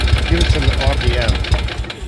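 A 20 hp Kohler Magnum engine on a Simplicity Sunstar garden tractor runs close by with a steady, knocking throb, held at raised RPM throughout. A voice is faintly present under the engine.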